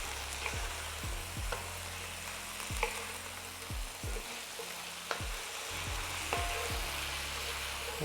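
Hibachi-style steak bites fry in sesame oil in a pan, a constant sizzle under repeated scraping and clinking as the pieces are mixed, close and steady without talk.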